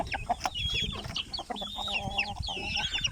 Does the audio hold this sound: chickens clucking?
yes